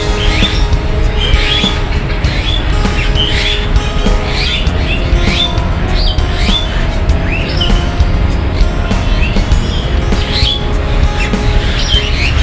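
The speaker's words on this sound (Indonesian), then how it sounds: "Jalak Bali. Kedengaran ya kicauannya," A Bali myna (Jalak Bali) sings at Surabaya zoo in repeated short, bright whistled and chirpy phrases, with other birds calling and a steady low hum of crowd and traffic noise underneath.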